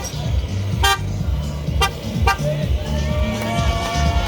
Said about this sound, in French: Ça, c'est Sylvain qui klaxonne.